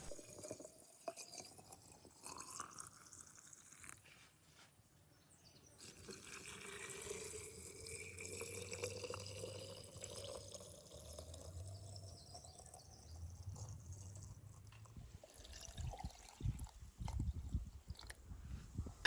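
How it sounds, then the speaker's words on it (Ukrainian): Boiled, cooled water streams steadily into a jar for several seconds, its rising pitch showing the jar filling, with faint clatter near the end, while making homemade bread kvass. "Далі заливаю кип'яченою, але охолодженою до 40 градусів водою."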